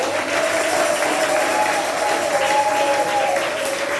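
Congregation in a church clapping steadily and loudly throughout, a dense, sustained wash of applause with a faint voice or singing line running beneath it.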